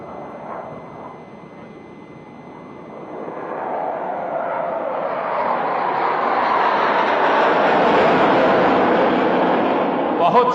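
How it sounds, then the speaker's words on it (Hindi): Naval air display jets performing aerial stunts at a Navy Day show, a broad jet roar building from a distant rumble to a loud sustained pass over about ten seconds, heard alone without talk. "चीते की भांति हमला करने वाले ये हवाई विमान पैंथर्स अपने नाम को पूर्णतः चरितार्थ करते हैं"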